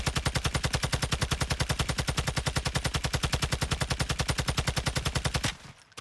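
Automatic fire from a gun in Modern Warfare 2 played on PS5: a fast, perfectly even stream of loud close shots for about five and a half seconds, then it stops abruptly, with no speech.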